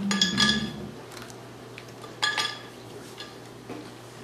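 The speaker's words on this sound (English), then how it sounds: "put in a couple ice cubes, about like 6 ice cubes." Roughly six ice cubes clink and rattle into a container while making an orange slushy, a bright cluster of knocks at first, then scattered fainter clinks.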